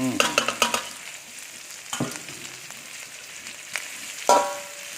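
Mackerel dropped into a hot pan with garlic and shrimp paste and stir-fried, a close steady sizzle broken by a few sharp scrapes and clanks of the spatula against the pan.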